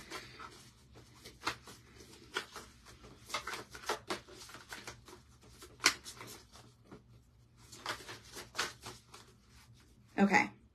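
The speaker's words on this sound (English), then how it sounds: "These cards are hard to shuffle." Soft, irregular bursts of shuffling playing cards, a few sharper riffles and slaps, with a person talking on and off over a low steady hum.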